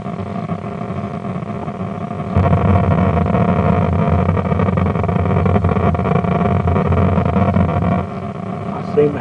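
Thrust from the spaceship in a prototype Asteroids game rises to a louder, steady roaring hum when the throttle opens, holds for several seconds, then drops back to a lower drone.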